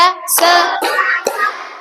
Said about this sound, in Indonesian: Oke, tepuk 1, yes. Tepuk 2, oke. Tepuk 3,